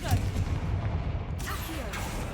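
A Confringo spell blast from the Hogwarts Legacy video game lands as a heavy, rumbling boom with a sharp crack, over dense game background noise.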